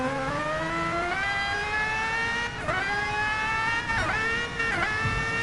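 An ART Aguri race car engine in Gran Turismo Sport revs hard and steadily, its pitch climbing in repeated surges with brief dips between gear changes, loud and close throughout.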